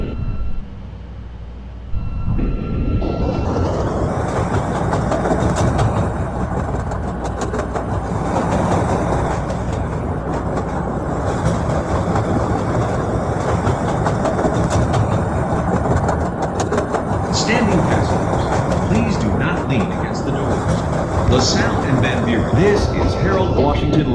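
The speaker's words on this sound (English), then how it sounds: "This is a pink line train to 54th and Cermak." Chicago CTA Pink Line elevated train running, starting after a brief quiet moment into a loud, steady rumble and rattle of wheels on rails that holds for the rest of the clip, with faint clanks and a possible onboard announcement under the noise.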